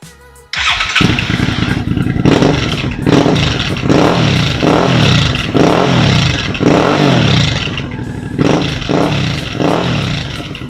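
A Suzuki V-Strom 650 XT with an aftermarket Delkevic exhaust, baffle fitted, fires up and is revved repeatedly. Loud, close rhythmic bursts of engine roar rise and fall over a rumbling idle.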